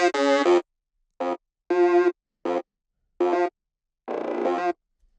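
An isolated synth sound from an Ableton afro house production, six short buzzy tonal stabs in an uneven rhythm separated by silence, with gritty digital artifacts, loud and alone.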